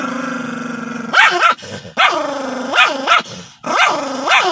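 A small Chipin dog growling and barking in play, starting with a low sustained growl that breaks into loud, close, snarling barks in several rough bursts.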